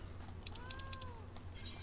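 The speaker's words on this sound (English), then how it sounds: "I just hear a cat." A cat in Final Fantasy XIV gives a single short meow with a gently arched pitch, faint over a low background murmur and a few soft clicking sounds.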